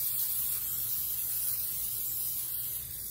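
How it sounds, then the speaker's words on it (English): Cooking spray hisses steadily onto a muffin tin for about three seconds, a close, continuous aerosol spray heard on its own. "we're just going to give this a good little spray."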